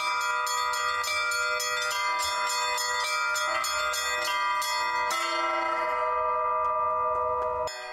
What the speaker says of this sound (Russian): Каждый раз над архиерейским валом разносится звон, который издавна созывал на службы.